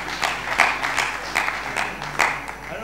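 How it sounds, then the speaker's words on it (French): Applause at a municipal council meeting in Agen, a modest patter of clapping hands with a few louder claps standing out, spread across the short stretch at a moderate level. "Je vous propose qu'on les applaudisse en signe."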